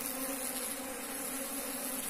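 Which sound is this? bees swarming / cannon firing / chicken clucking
bees swarming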